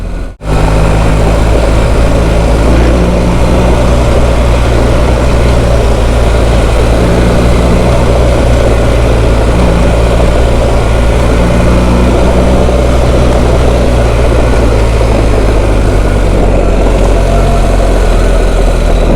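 A motorcycle engine drones loud and close as the bike rides off-road over loose gravel toward a lighthouse, a sustained steady-throttle hum with rough crunching noise throughout and no speech.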